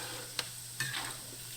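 Pork pieces sizzle in a pan while being stirred to render lard, a soft continuous frying hiss with two quick scraping clicks of the utensil, close and faint, no talk.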